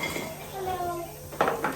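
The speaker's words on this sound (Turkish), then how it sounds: "Arkadaşlar şöyle tenceremizi getirdik." A metal cooking pot holding kavurma for Turkish stuffed cabbage rolls clinks and clatters as it is set down in a kitchen, a short sharp knock near the end, while someone talks over it.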